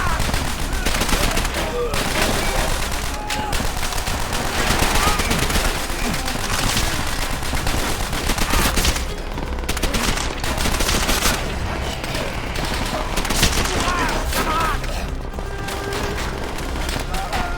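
Machine gun fire in the video game Call of Duty: World at War sounds as loud, rapid bursts of shots over a dense battle din, with voices talking in the mix.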